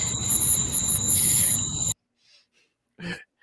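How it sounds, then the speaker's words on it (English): Crickets chirp as a steady, high trilling over a faint background hiss for about two seconds, then cut off abruptly into near silence with a short soft noise after. "Crickets."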